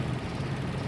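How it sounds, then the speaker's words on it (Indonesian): A 2010 Toyota Vios 1.5 G automatic idles with a steady, even low hum and a faint mechanical rumble, close and constant, with no voices. "suara mesinnya konstan seperti itu"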